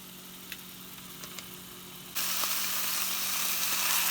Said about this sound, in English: just keep moving the meat around in the hot pan and scrape off chunks as it thaws